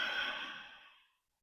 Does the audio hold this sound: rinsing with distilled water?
no